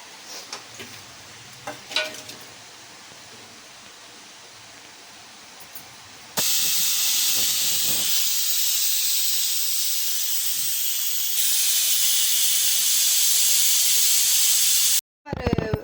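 A loud, steady hiss of steam bursts out suddenly from a pressure cooker cooking sambar, continuing for several seconds, briefly strengthening before cutting off abruptly.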